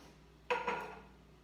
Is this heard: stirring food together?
yes